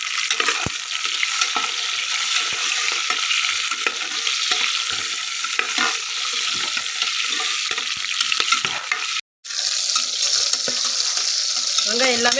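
Shallots sauté in a pan until browned, with a loud, dense sizzle running continuously and scraping stirs breaking through. A brief cut near the end is followed by a slightly different frying hiss.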